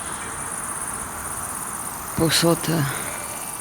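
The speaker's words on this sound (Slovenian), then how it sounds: "povsod skačejo velike rumene kobilice." Large yellow grasshoppers in hot, dry grass among conifers and church ruins keep up a steady, dense high chirring, with a brief louder buzzing burst near the end.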